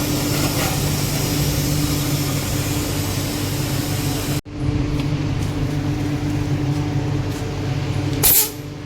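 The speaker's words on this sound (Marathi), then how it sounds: "आम्ही आता सी एन जी भरतो गाडी" CNG gas hisses steadily into a car at a fuel station, a loud continuous spray that cuts off abruptly, then a lower hum with a short burst of hiss near the end.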